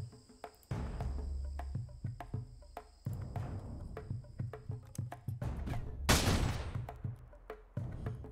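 Rapid bursts of gunfire ring out in the modded sci-fi colony game Rimworld, with Space Marines shooting at attackers. Sharp, close volleys keep repeating in an irregular rhythm, and one louder, longer blast stands out near the end.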